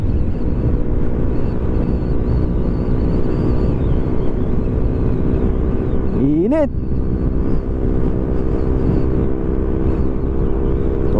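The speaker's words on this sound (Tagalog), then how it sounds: "Ang lakas ng hangin." Strong wind roars past a vehicle moving at highway speed on a mountain road, a loud, constant buffeting rumble throughout, with a brief voice heard midway.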